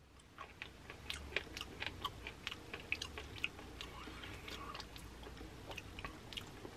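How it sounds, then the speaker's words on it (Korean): Close, quiet chewing of sea cucumber cooked in tteokbokki, soft repeated squishy bites and crunchy clicks in an irregular rhythm against a low background hiss. "자 여러분 그럼 지금 바로 해삼 먹어보도록 하겠습니다"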